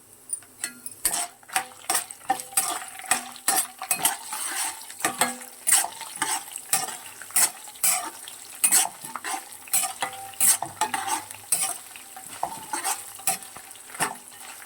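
Green chillies fry in hot oil for tamarind pulihora, a busy sizzle broken by rapid, repeated clinks and scrapes of a ladle stirring in the pan, close and continuous.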